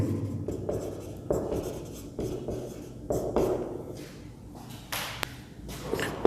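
Chalk or marker writes an equation on a classroom board in a series of short scratchy strokes and taps, with brief pauses between them and no speech.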